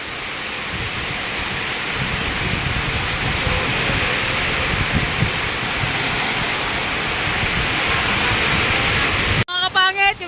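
Heavy rain pours down in a dense, loud, continuous roar that swells slightly over about nine seconds before cutting off abruptly into a voice at the end.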